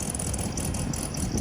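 A 1967 Volkswagen engine runs steadily up close, a continuous low rattling idle that holds even throughout.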